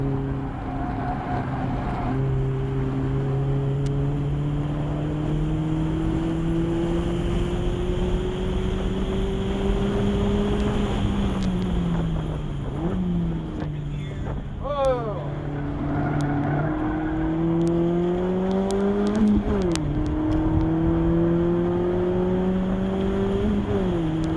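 Mazda Miata engine droning steadily on a wet race track in the rain, pitch climbing gradually under acceleration with brief dips at gear changes around the middle and near the end, loud and continuous from inside the car.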